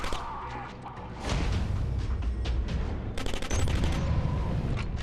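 Video-game gunfire in Killzone Mercenary: loud, dense bursts of automatic shots and heavy booming impacts, continuous and close, rising in intensity after the first second, with no talk.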